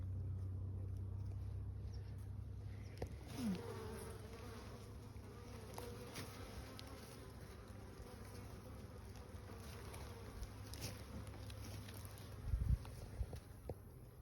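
Honeybees buzzing at an open beehive during a first-year beekeeper's inspection, a steady low drone close by with occasional louder passes and faint talk nearby.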